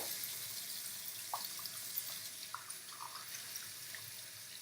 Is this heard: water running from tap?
yes